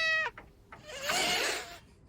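A cat meows nearby, first with a short tonal cry, then a few brief chirps, and finally a longer, louder, drawn-out meow.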